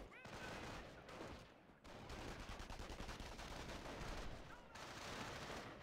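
Dense strategy-game battle noise from Company of Heroes: sustained, rapid BAR rifle fire mixed with other gunshots in a continuous loud barrage, with brief lulls near the start and around the two-second mark.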